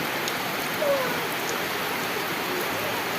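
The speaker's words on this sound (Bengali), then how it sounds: "বৃষ্টি নামছে" Steady rain falling outdoors, a dense even hiss of drops on surfaces, constant and fairly loud throughout with no talk.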